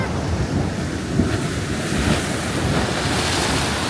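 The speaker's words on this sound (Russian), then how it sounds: "Разошлось опять море." Rough, stormy sea surf crashes and rolls continuously in winter at Batumi, mixed with gusting wind buffeting the microphone, loud and close with no voices.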